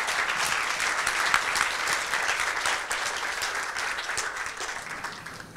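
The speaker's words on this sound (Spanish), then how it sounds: "Un aplauso para todos." An audience at a Cinépolis Chile corporate event bursts into steady, dense applause, with many hands clapping evenly throughout. The clapping is moderately distant and fades slightly toward the end, with no talking over it.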